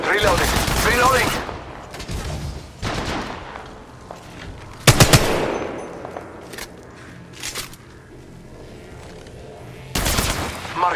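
Bursts of automatic gunfire crackle in Apex Legends, several loud rapid volleys separated by quieter gaps, with footsteps and a voice talking in between.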